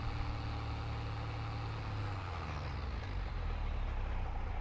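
A tractor engine in Farming Simulator 22 drones and revs, a heavy steady rumble that shifts in pitch midway as it climbs through gears, loud and close with no talking.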